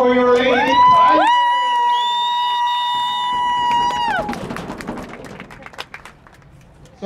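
Home-side crowd at a high school soccer senior recognition makes noise, with loud sustained horn-like blasts giving way to scattered cheers, whoops and shouts.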